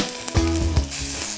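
Finely chopped elephant foot yam sautés in sesame oil, a loud, close, steady sizzle and crackle broken by a couple of stirring scrapes.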